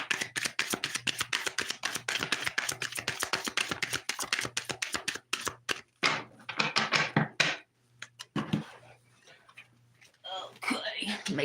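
Tarot cards being shuffled in rapid, crisp riffling bursts, steady at first and then breaking into shorter rustles and pauses, close and fairly quiet, with soft whispering talk near the end.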